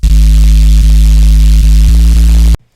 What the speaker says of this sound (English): I added a sub, which is consisting of 2 layers and sounds like this.